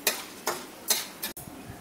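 Spice paste of mustard, radhuni, cumin and ginger going into hot oil for a traditional vegetarian shukto, giving a few short bursts of sizzling and stirring, each fading quickly, close and without talk.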